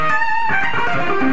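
A brief distorted electric guitar lick of three notes outlining a tritone, the notes sliding one into the next over about a second, played alone.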